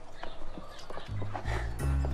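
Horses moving with clip-clop hoof sounds, then a neigh and strong low, sustained horse calls toward the end, with faint background activity.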